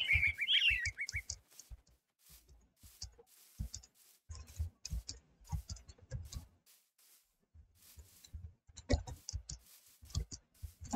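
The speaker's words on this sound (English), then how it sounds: "That is a lot of birds." Many birds chirping in Minecraft: scattered short chirps and ticking calls, fairly faint and irregular, repeating across the whole stretch with quiet gaps between.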